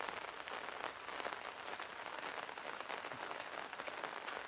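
Steady rain pours down over a countryside village and its rice fields, a dense even hiss with close drops pattering on surfaces throughout, no voices.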